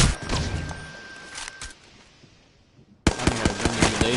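Gunfire from a first-person shooter video game: loud bursts of rapid shots at the start, fading to quieter distant shots, then a fresh close burst of automatic fire near the end.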